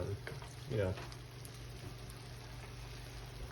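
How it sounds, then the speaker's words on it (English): Ground beef browns in a pan with a faint, steady sizzle, plus a brief louder stir near the start; the sound stays quiet throughout. "we're almost done browning this ground beef"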